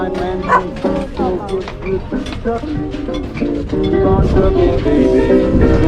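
Dogs bark and yelp repeatedly over the loud, continuous rumble of an earthquake near İzmir, Turkey, heard from inside a camper van, with a person speaking among the barks.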